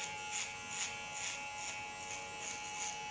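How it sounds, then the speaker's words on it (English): Electric hair clipper hums steadily and close while shaving the nape for a bob haircut, a continuous buzz with slight swells as the blade moves, no talking. "Use my clipper blade as a guide and a comb."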